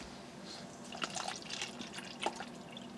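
Cold water trickles and drips into a cup while an MRE ration is prepared, a faint, quiet pour with a few small splashy drips.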